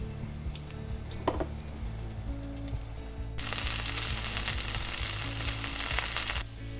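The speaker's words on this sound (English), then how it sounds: "I'm probably going to let them saute cook for about kind of 5 to 7 minutes" Horsetail sautés in a pan with faint crackling at first, then a loud, bright sizzle swells midway and holds steady for about three seconds before suddenly dropping back down.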